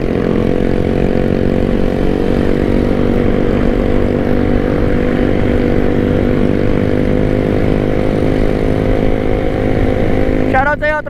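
Honda XR motorcycle engine running steadily at speed on a group ride of classic bikes in Infanta, Quezon, a loud continuous drone with constant pitch throughout and strong wind rush, a brief higher whine near the end.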